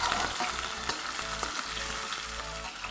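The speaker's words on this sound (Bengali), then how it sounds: "দিয়ে একটু ভাজা ভাজা করে নেব" Chopped potatoes fry in hot oil with spices for a banana flower ghonto, giving a loud, dense, continuous sizzle with a few soft stirring knocks, close by with no speech.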